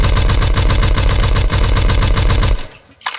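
Rapid automatic gunfire in the first-person shooter Phantom Forces, a dense rhythmic burst of shots close and loud for about two and a half seconds, then cutting off into near silence with a faint clatter.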